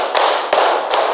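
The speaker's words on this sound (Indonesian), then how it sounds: "Tepuk 1, tepuk 2, tepuk 3, tepuk 4," Hands clap three times at a steady pace during a classroom clapping game, each clap crisp, loud and near, with slight echo from the room between them.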